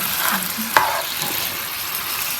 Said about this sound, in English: Next thing is white wine to deglaze. Every little brown bits and other things come off the bottom of the pan and add flavor.